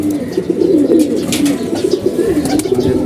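Racing pigeons back in their home loft after a race coo loudly and continuously, overlapping rolling calls from several nearby birds, with no voices.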